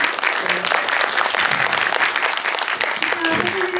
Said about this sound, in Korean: 다시 한번 큰 박수 부탁드리고요